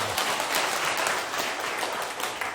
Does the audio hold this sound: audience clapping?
yes